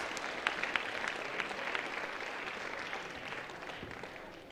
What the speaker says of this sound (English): Let's give a round of applause to all of our service hour executives.